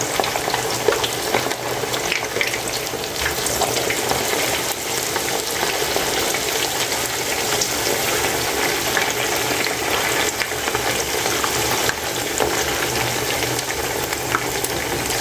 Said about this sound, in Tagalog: Sobrang init ng mantika ko.